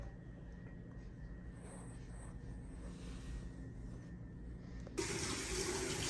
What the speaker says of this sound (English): he has to run the water to, I guess, to see